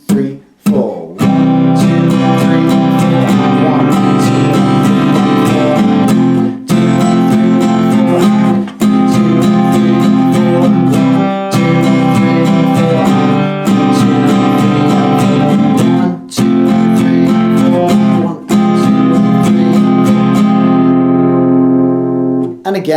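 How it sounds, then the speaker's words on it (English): Guitar strumming the four chorus chords of a song in a repeating pattern, loud and close, with regular accented strokes and brief gaps at chord changes, the last chord ringing out. "So if we put those 4 chords together for our entire chorus, using that strumming pattern,"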